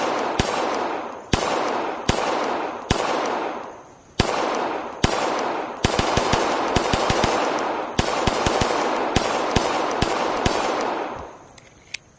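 SIG 365 X Comp compact handgun shots in a VR shooting game sound as loud, sharp reports over a continuous noisy background, at first spaced about a second apart, then in quicker clusters, before fading at the end.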